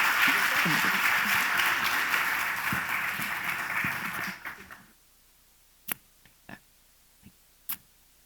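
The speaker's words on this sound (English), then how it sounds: "Please, a round of applause, Ana Carolina and Ricardo." Audience applause at The Ocean Race Summit in Itajai, a broad wave of clapping that fades out after about four seconds into near silence broken by a few isolated ticks and knocks.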